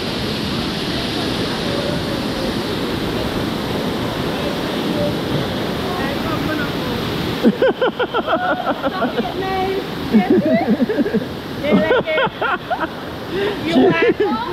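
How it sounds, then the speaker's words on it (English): A waterfall at Table Rock in St. Vincent rushes as a steady roar throughout, with people talking close by over it in the second half. "Like the waterfall was all up there."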